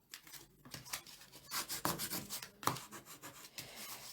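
Soft, close rubbing as paper is burnished down with a foam folder, in uneven swishing strokes that rise and fall, with a few louder passes and no talking.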